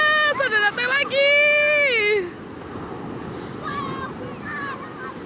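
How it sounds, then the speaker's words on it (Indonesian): Surf washes up steadily on Pelang beach, a low continuous rush that takes over after a child's high, drawn-out voice fades in the opening seconds. "Awas ada ombak besar."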